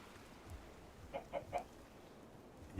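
Chicken in a Minecraft modpack game gives three short clucks in quick succession, moderately loud against a quiet background, followed by a low thump.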